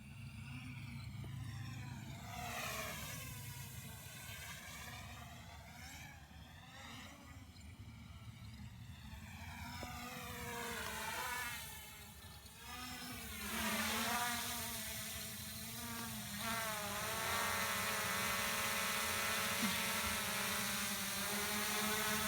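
Small camera drone hovering and manoeuvring nearby, a steady buzzing whine whose pitch rises and falls continuously as the motors change speed, with no talking over it.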